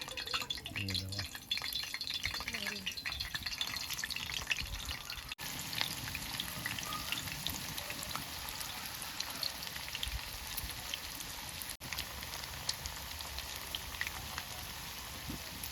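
A chicken roll frying in hot oil in a pan, a continuous crackling, rain-like sizzle close up, with a few soft clinks and scrapes early on and some background speech.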